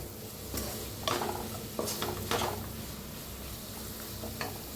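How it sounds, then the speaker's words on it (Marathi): A spoon stirs sugar into a cooked raw-mango and basmati rice mixture in a pan, with a steady faint sizzle under repeated scraping strokes against the metal. "एकदा मिक्स करूया."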